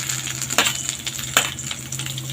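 Pointed gourd (potol) dropped into hot, lightly salted oil in a pan, giving a close, steady crackling sizzle punctuated by two sharp spitting pops.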